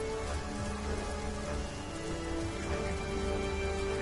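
Heavy rain pours in a steady, dense hiss without a break, loud and close, in the fantasy role-playing game Divinity: Original Sin.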